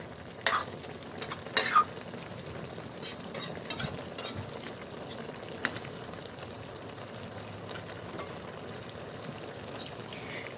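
A spoon stirs ginataang papaya with fish in a pot, with a few scraping clinks over a soft steady simmer and bubbling, close and fairly quiet, with no voices.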